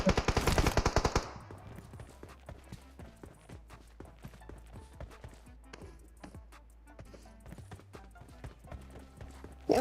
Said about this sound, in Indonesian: Dia masih nembak itu dong